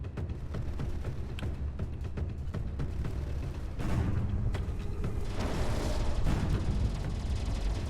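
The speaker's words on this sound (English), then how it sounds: "there's the Sharon firing" Ship weapons in a Space Engineers tournament battle fire in rapid irregular bursts of booms and cracks, thickening into a dense rumbling barrage near the end, with no talking.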